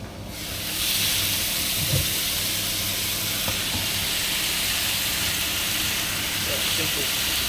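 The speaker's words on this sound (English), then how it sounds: "Simple noodles, let the steam come through that, that'll heat that up." Steam hisses steadily up through noodles piled over chicken in a pan, a loud, continuous sizzling rush with a few faint clinks and knocks of utensils.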